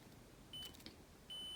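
Two short, faint electronic beeps come from testing the wiring of a car's indicator stalk switch, spaced under a second apart, with a soft click between them.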